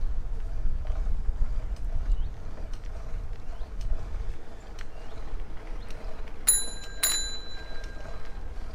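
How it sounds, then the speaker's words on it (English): A handlebar bell on a Pointer Arena bicycle rings twice, sharp bright dings late in the clip, over a low background rumble of riding. "Bell sounds good enough."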